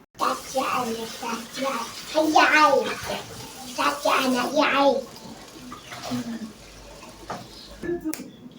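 Cooked pasta being drained, water pouring and splashing steadily into a sink up close while people talk over it, the flow easing toward the end.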